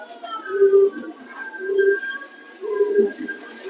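Racing pigeons, a top breeding bird among them, coo in three low rolling phrases spaced about a second apart, close by with no talk over them.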